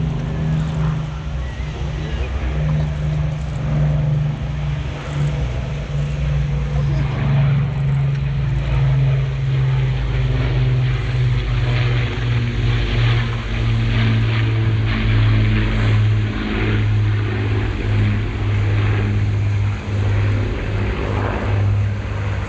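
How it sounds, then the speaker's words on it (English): A Lancaster bomber from the Battle of Britain Memorial Flight, four Merlin engines droning at an air show in Ayr, Scotland, passing overhead as a loud, sustained, throbbing propeller roar that holds steady throughout. "Let's listen to the sounds of 4 Merlins and 1 Britain engine from the Battle of Britain Memorial Flight."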